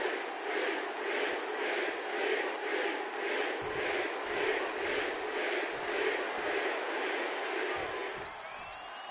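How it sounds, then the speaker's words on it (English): A WWE 2K25 wrestling arena crowd roars and cheers in rhythmic waves, chanting pulses rising and falling for several seconds before easing slightly at the end. "The crowd is on their feet for Jey Uso"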